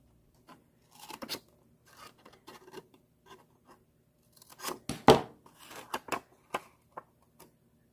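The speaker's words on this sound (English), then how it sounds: "we're just going to cut a little V out." Scissors snipping a small V-shaped notch into a paper pocket for a junk journal, a few crisp close cuts clustered together with quiet paper handling around them.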